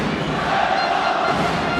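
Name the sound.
basketball crowd noise with drums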